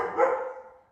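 A single dog's bark lands close and loud, then fades quickly.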